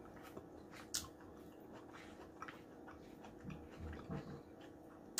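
Thick cut bacon being chewed close to the mic during an eating show, with faint wet squishes and bites spread irregularly over a few seconds, quiet and without talk.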